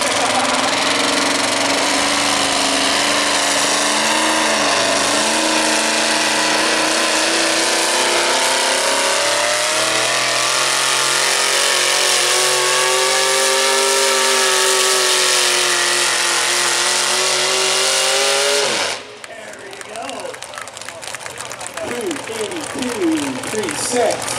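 A race car engine revs hard and close for a long stretch, its pitch climbing and wavering, then suddenly drops away to a rougher rumble.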